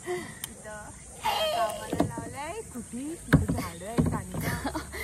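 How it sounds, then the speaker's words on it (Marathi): Kayak paddling on a river at Siolim near Udo Beach in Goa, with soft splashing strokes of the paddles and water sounds running under close, lively talk from the two paddlers. "तर हे आहे kayaking of in शिअलिम near उड्डो beach"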